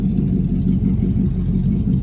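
A vehicle engine runs smoothly just after a new fuel line and gas tank install, holding a steady low rumble close by with no other sounds.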